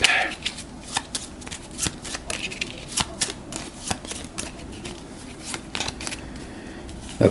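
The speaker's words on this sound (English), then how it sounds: "And we'll shuffle all of this up." Cards are shuffled repeatedly during an Age of Innovation board game, giving a run of crisp riffling bursts and taps that are close and steady, with no one speaking.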